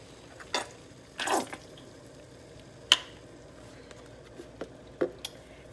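Hair conditioner with coconut oil is poured into a pot of boiling water, giving a few short wet splashes and drips, with a brief sloshing burst and scattered small plops against a quiet background.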